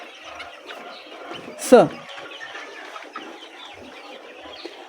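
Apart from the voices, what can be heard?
chickens clucking on a poultry farm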